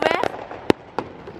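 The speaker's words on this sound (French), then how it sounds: "un petit feu d'artifice à ciel ouvert" Fireworks going off in the open sky over Rio de Janeiro, Brazil: a few sharp, distant pops, one clearly louder, follow a brief burst of voices.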